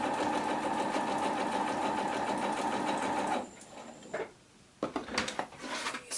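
A sewing machine stitches a diagonal seam on a fabric square for a half square triangle quilt block, running with a steady fast hum for about three seconds, then falling quiet apart from a few soft handling noises.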